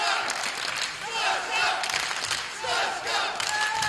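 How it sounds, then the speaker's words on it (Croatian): Live audience at a singing show roaring and cheering in loud, sustained waves with scattered applause, a dense crowd din filling the whole space. "Čujete sve, čujete publiku."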